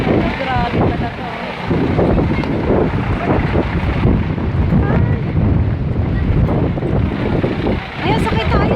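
A sudden, very high wind sweeps through an outdoor spot in Quebec City, a loud, continuous roaring gust that buffets the microphone, with people's voices mixed in underneath.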